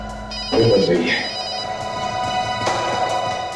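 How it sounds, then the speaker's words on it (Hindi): A telephone rings indoors amid a tense police scene, a steady electronic ringing tone that persists under a busy background with a louder burst near the start, with no voices talking over it. "फोन बज रही है।"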